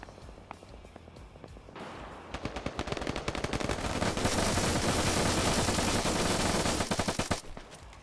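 Automatic and rifle gunfire from an Arma PvP battle between China and Takistan factions crackles in rapid bursts, building from scattered shots into a sustained, dense volley before cutting off abruptly, heard alone without voices.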